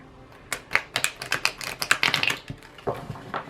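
A rapid flurry of crisp, papery clicks and flutters, tarot cards riffled and shuffled in quick bursts, close and fairly loud with short pauses between.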